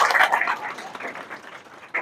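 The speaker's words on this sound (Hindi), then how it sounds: "एक बार इनके लिए जोरदार ताली हो जाए।" Audience applause at a school awards ceremony, a brief burst of clapping that fades out over about two seconds, moderately quiet and without talk.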